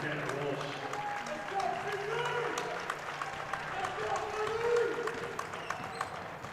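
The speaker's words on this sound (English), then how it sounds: "County crowd trying to get hype here," Crowd at a high school playoff basketball game cheering and clapping steadily throughout, a broad wash of applause with scattered shouts, while a commentator talks over it.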